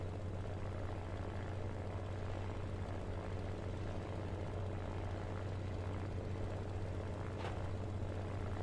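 A simulated propeller airplane engine runs at 30 to 40% throttle on a runway in a flight simulator, producing a steady, droning hum with a constant low tone, moderately quiet and uninterrupted.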